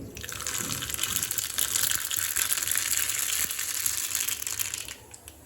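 Mustard seeds splutter and crackle in hot oil for a kari chutney, a dense, steady hiss of rapid pops close by that fades out near the end.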